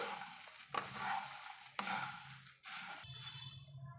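Puffed rice namkeen is stirred in a pan over a low flame, with a soft sizzle under a few sharp scraping strokes of the spoon, close and with no talk.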